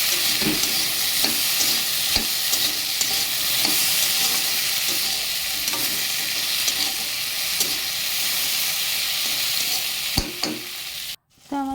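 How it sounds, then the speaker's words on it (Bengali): Taro roots cooking in a pan with turmeric, salt and red chili powder, a loud continuous sizzle and hiss with occasional scrapes of a stirring utensil, close up, cutting out abruptly near the end. "এক চামচ হলুদ আর এক চামচ লবণ আর একটু লাল মরিচের গুঁড়ো দিয়ে সব দিয়ে ভালো করে একসাথে মিশিয়ে অনেকক্ষণ কষিয়ে নেব"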